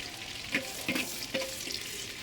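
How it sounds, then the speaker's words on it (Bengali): Chopped onion frying in a clay pot while meat is being cooked, a soft steady sizzle with a few brief stirring scrapes and clinks, close and fairly quiet, no voices. "একটা কুচোনো পেঁয়াজ এর মধ্যে দিয়ে একটু হালকা ভাজা ভাজা করে নেবো"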